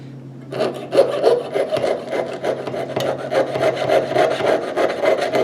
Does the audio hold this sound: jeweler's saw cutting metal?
yes